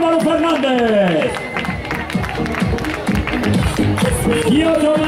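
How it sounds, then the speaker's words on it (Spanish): A crowd at the finish of a charity footrace claps and cheers for an arriving runner, scattered applause and hubbub mixed under a loud announcer's voice. "Fuerte ese aplauso también para él"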